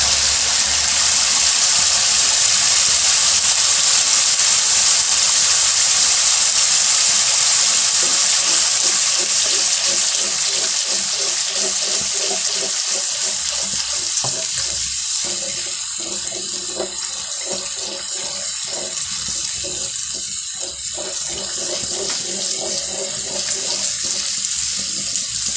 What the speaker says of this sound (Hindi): अच्छी तरह मसाले को भून लेंगे, इसका पानी खुश्क हो जाए दही का।